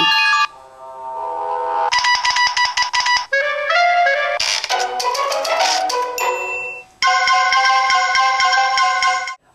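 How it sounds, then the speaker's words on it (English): A sequence of bright electronic text alert tones from an iPhone 4 running iOS 4.2 plays one after another, chiming melodic jingles and beeping patterns, loud and clear with short gaps between them. "a whole buttload of new text ringtones"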